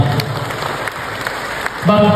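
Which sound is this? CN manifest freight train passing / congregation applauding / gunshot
congregation applauding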